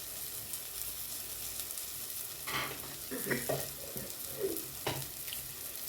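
A spoon stirs spiced small sardine fish curry (puli munchi) in a pan, with soft scraping and stirring over a steady low sizzle, quiet and close.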